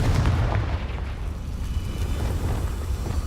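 Confringo blast spell in Hogwarts Legacy: a dense, loud, rumbling explosion that roars continuously for about three seconds, heavy in the low end, with no speech.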